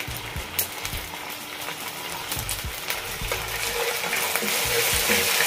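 Onion paste frying in oil gives a steady, close sizzle, with a few soft knocks of stirring early on, and the hiss grows louder and brighter toward the end.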